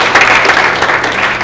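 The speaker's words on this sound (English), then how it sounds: "And let's give a hand for Amityville." A short burst of audience applause at a Main Street Alliance community meeting, many people clapping together in a loud, even patter.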